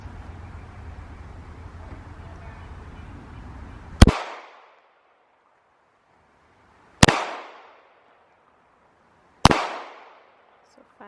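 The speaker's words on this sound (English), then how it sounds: "So 5 slow shots into the top circle." Three loud, sharp gunshots fired at a printed target on a shooting range from 3 yards, spaced a few seconds apart, each with a brief ringing decay, following low murmuring and background noise.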